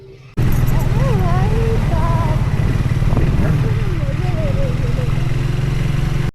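A motorcycle engine roars loud and close as a ride gets under way, holding a steady drone while a person talks over it.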